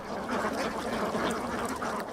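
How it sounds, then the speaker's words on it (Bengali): A flock of thousands of ducks floating on water quacking together in a dense, continuous chorus, fairly loud and steady throughout, with no talking. "দল বেঁধে ভেসে বেড়াচ্ছে হাজার হাজার হাঁস"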